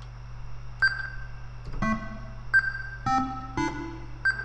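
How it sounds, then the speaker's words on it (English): Short synthesized G5 beeps ring out at uneven intervals, bright electronic tones with a hint of reverb, made in Ableton Live for a dubstep drum beat, alone without any voices. "you can put a beep in there"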